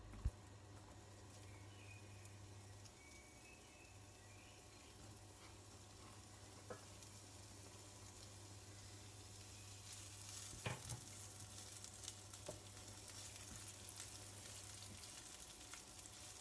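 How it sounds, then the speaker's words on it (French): Onions frying in a pan for a Persian dish, a steady low sizzle running throughout with a couple of faint clinks near the middle, no voices. "On va maintenant ajouter le reste de nos oignons dans cette poêle."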